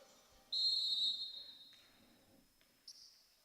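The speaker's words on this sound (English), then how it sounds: "Basketball whistle back into play." A single sharp, loud referee's whistle blast cuts through a women's basketball game at an athletic center, holding for about a second before fading, with a brief second chirp near the end over faint crowd noise.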